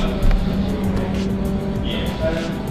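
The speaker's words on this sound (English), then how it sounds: "This is the McLaren GT4 car" A McLaren GT4 race car runs nearby at a track, its engine a continuous rumble with a brief louder surge, heard under people talking.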